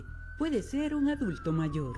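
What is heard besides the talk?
ambulance siren passing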